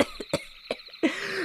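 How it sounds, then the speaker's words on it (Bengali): An elderly man coughs in a dramatized story, a quick series of four or five dry, separate coughs close to the listener, ending in a longer, raspy breath. "কথা শেষ করার আগেই কাশি শুরু হয়ে যায়।"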